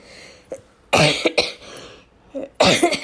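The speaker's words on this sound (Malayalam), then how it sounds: "ചുമ ചുമ" A person nearby gives several loud, harsh coughs in uneven bursts, with short quiet gaps and a lighter throat-clearing in between.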